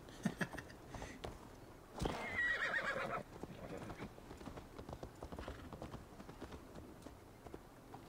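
Steady clip-clop of horse hooves with a loud whinny partway through, in the video game Assassin's Creed, a game-like soundscape carrying on around them.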